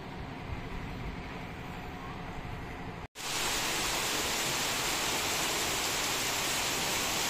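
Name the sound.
heavy rain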